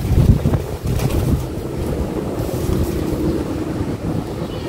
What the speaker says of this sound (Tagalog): Sobrang hangin po.